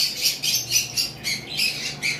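Red-eyed albino Fischer's lovebirds squawk in a rapid series of about nine sharp, shrill calls, close and fairly loud over a quiet background.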